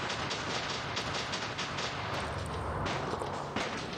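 A machine gun fires in the robot combat video game War Robots, a dense continuous rattling burst that runs for several seconds with a brief break near the end, loud and close, with no voices.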